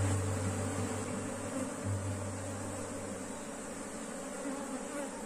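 Honeybees buzz around an open hive during a hive split while a beekeeper catches the queen, a steady, close and fairly faint droning hum with no talk over it.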